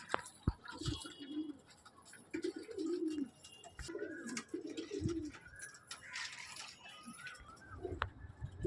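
Domestic pigeons coo inside a closed room, repeated soft low throaty coos in short bursts, close and fairly faint, with light rustling and a few small knocks between calls.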